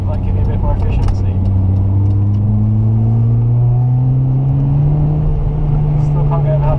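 A Peugeot 106 Rallye engine, freshly fitted with a new radiator, revs steadily upward, its low droning note climbing gradually in pitch over several seconds, loud and close.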